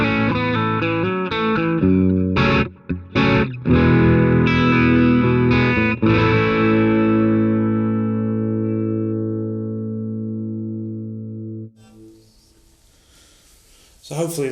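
Clean electric guitar captured through an NT1 condenser and a ribbon microphone together: a few strummed chords and picked notes, then one long chord left ringing and slowly decaying to near silence, with a brief scrape at the end.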